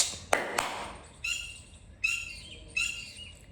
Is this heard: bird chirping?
yes